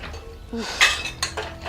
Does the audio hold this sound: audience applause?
no